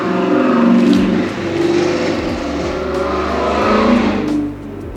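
A loud engine revving and roaring close by as a vehicle passes, a continuous rumble that swells and eases over several seconds with no talk.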